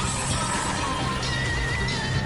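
A horse whinnies loudly and close by in a long wavering neigh, with faint clip-clop of hooves mixed into the steady outdoor background; no voices.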